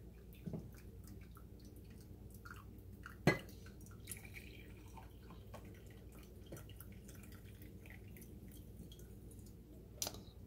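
Brewed coffee drains slowly through a filter into a cup, a soft, continuous close trickle with scattered small drips and a couple of faint clicks.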